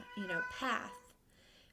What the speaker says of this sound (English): I have a 12-pound cat that is hollering.